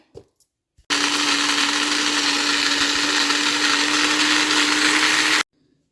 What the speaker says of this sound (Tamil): இந்த பிரியாணி பவுடருக்கு செய்த வறுத்த மசாலாக்களை வந்து பவுடர் ஆக்க போகிறோம்